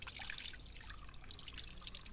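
Cold, clear mountain spring water trickles and splashes close by while someone washes their face, a dense, bright patter of dripping and running water that continues steadily without speech.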